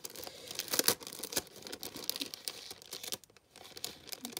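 A paper envelope holding a scrapbooking contest prize is handled and opened up close, giving irregular bursts of crinkling and tearing paper with short pauses, no voices.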